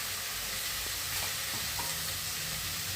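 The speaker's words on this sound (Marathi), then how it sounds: "आता हा चांगला परतून घेते।" A spice masala of green chillies, garlic, ginger, coriander, onion and peppers fries in a pan for Mumbai-style pav bhaji, producing a loud, constant sizzle with faint scraping stirs under it and no talk.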